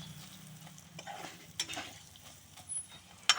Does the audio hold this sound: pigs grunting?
no